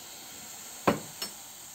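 White vinegar poured over a stained pillow treated with washing soda gives two short fizzing hisses, a stronger burst followed by a fainter one, close and quiet with no voices.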